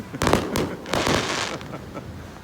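Distant fireworks explode above a beach roughly a hundred yards away, a few quick crackling booms fading into a soft rumbling wash.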